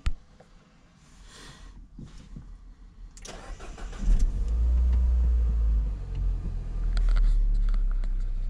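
A Peugeot RCZ 1.6 THP car engine cranks and catches, then settles into a steady rumbling idle after some light handling noises; no talking.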